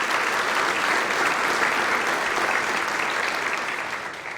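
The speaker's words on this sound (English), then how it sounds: "So give yourselves a round of applause" Steady applause from a crowd of several hundred at a community foundation's annual meeting, dense and even throughout, tapering slightly at the end.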